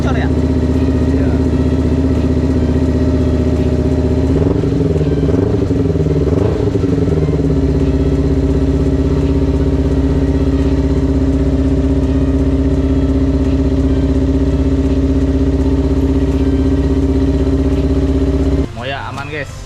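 A crash-damaged Kawasaki Ninja 250 motorcycle engine idles loudly and steadily up close, sounding as if something leaks, with a brief uneven rev early on and a clattering mechanical tone throughout, then drops off.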